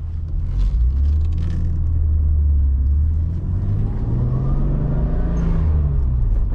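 A Toyota Supra MK4 engine revs while driving, a loud, close rumbling drone that climbs smoothly in pitch and then eases off, with no talking.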